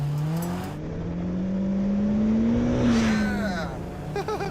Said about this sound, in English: Oh, it revs pretty high.